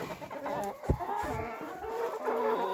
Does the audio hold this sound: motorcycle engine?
no